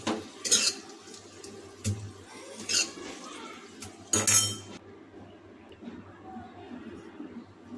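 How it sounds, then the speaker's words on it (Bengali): Cooked mixed vegetables scraped from a wok onto a plate for a Bengali vegetable bata, giving a few clinks and scrapes of utensil on metal, then quieter shuffling while a voice speaks. "এবার এই কড়াই থেকে সমস্ত সবজিগুলো এই পাতলার উপর তুলে আমরা রেখে দেবো।"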